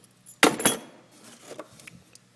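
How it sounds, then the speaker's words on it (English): A lost set of house keys jangling as they are picked up, two close bright metallic clinks followed by fainter rattles and handling noise. "Somebody lost their house keys."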